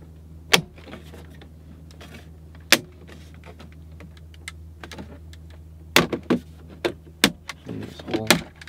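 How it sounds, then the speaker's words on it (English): Plastic trim piece being pried and pulled off the center console of a 2017-2022 Ford interior, heard as a few sharp clicks and snaps of releasing clips, scattered between quiet stretches over a low hum. "I'm gonna pull this trim piece up."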